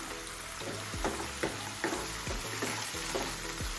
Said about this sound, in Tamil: கீரையும் பூண்டும் சேர்த்து வதக்கி விட்டுருவோம்.